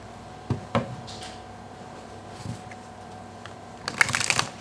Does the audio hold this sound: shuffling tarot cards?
yes